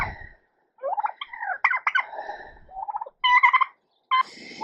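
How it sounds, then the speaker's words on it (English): Turkeys gobbling outdoors on a spring homestead, a series of close, loud warbling calls in bursts with short pauses, no talking. "Our turkeys are out today and talking"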